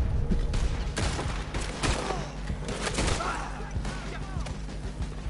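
Gunfire in Red Dead Redemption 2, a quick run of sharp gunshots and a burst near the start, then scattered thuds and clatter, loud and close over the game's low background noise.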